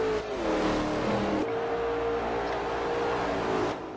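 NASCAR race cars roaring around an oval in Forza Motorsport 4, a steady loud engine drone with pitch shifting as cars rev and pass, continuous throughout without voices.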